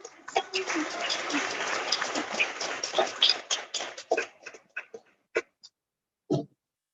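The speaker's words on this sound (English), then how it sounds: "Let's clap." Audience clapping at a youth challenge certificate ceremony, a burst of many hands that thins out into a few scattered claps before fading to silence.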